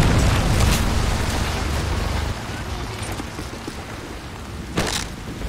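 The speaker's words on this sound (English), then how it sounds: "Friendly Predator missile inbound." A Predator missile blast in Call of Duty: Modern Warfare 3 opens as a loud, heavy rumble that trails off into sustained low roar, with a brief sharp burst near the end.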